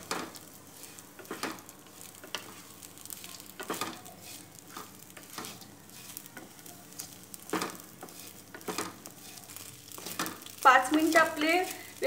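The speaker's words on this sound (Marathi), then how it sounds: "5 मिनिटं असं मी व्यवस्थित खिचडी परतून घेणार आहे।" Sabudana khichdi is sautéed in a pan, with repeated spatula scrapes and taps in an irregular rhythm over a low, constant sizzle that grows louder near the end.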